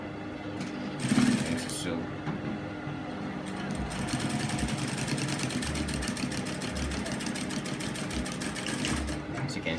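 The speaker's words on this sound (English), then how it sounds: "So I'm going to stitch like a quarter of an inch, a line about a quarter of an inch away from the opening." Sewing machine stitching a line along a trouser pocket opening, a steady close rhythmic whir running for several seconds after a brief pause, with a voice speaking briefly at the start.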